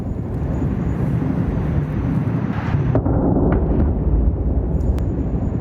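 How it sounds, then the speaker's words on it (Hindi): Explosions in Tehran sound as a loud, unbroken roar of deep rumbling that holds steady without any distinct separate booms, with no voices. "धमाके कितने खतरनाक थे ये भी आपको सुनाते हैं"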